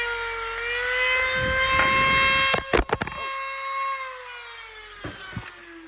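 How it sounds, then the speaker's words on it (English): A small Dremel rotary tool sands inside a solenoid part from a Case Patriot 3330 sprayer, giving a steady high-pitched whine close by. Its pitch sags slightly under load, and a few short rattling contacts break in partway through. "I just go all the way around with that little Dremel tool, and I sand inside of there"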